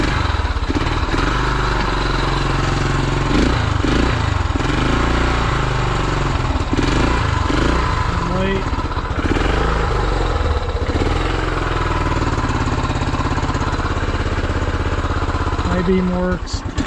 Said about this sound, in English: Probably going to have to let it warm up a minute so it idles, but it does run okay.